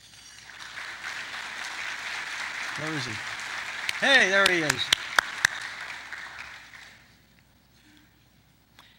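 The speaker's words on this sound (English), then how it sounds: "will you please stand and join us for a round of applause?" Palm Beach Civic Association awards luncheon audience gives a steady round of applause that runs about seven seconds before fading out, with people talking over it.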